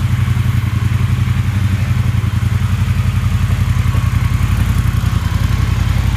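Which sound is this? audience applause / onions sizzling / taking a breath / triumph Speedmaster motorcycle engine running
triumph Speedmaster motorcycle engine running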